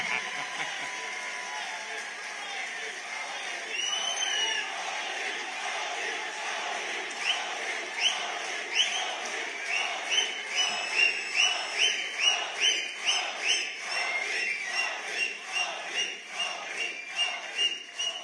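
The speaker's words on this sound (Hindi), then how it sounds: "और ताली अब बजानी है।" Large crowd of the Indian community in Nigeria clapping in unison at a rally addressed by PM Modi, starting scattered and building into loud, regular rhythmic claps with some cheering.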